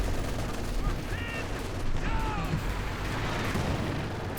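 Machine gun fire from a Company of Heroes 2 battle, a dense sustained rattle of gunfire under the busy wash of combat, with occasional whistling streaks overhead and a voice talking throughout.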